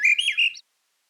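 A migrating songbird's breeding-season song played back from a recording: a short, bright run of high chirps and whistled notes lasting about half a second, then silence.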